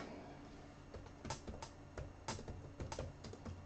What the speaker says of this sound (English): I'm typing that into the notes as well.